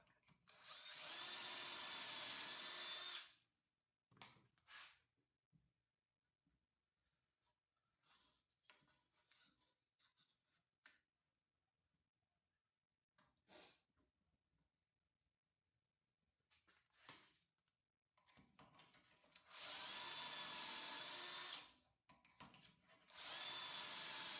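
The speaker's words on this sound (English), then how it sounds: "Then I go ahead and drill the pocket holes for the screws." Loud bursts of a high-pitched power drill boring pocket holes into wood for screws, a short run at the start and two at the end, with quiet shuffling and clicks between.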